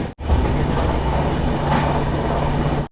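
A sleeper train from Howrah to Guwahati pulls away from Bardhaman station in a steady, close rumble of wheels and carriage noise, with no voices.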